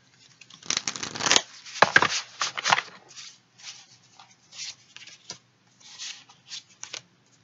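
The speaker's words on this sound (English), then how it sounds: "let's shuffle your cards." Angel oracle cards are shuffled by hand in a quiet room, giving several close riffling bursts followed by lighter, evenly spaced card flicks and taps.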